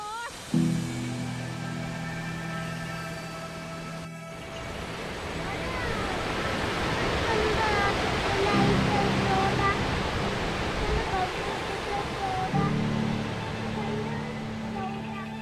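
Powerscourt waterfall in Wicklow, Ireland, roars in a broad, constant rush of falling water, with brief bursts of nearby talk or humming at the start and twice later.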